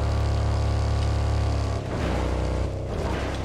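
Steady loud drone of a car engine driving in a video game, continuous throughout with a brief dip partway before the tone resumes, no talking over it.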